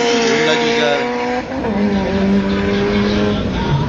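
Drag racing cars roar at an arena in Putrajaya, with a steady loud engine drone, rising revs and possible tyre squeal filling the whole stretch, no talking.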